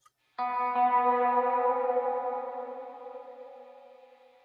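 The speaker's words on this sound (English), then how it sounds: "I'm using a EMT 245 reverb to get that long reverb." A single guitar chord through an EMT 245 reverb rings out, swelling into a long, lush reverb tail that slowly fades away over several seconds.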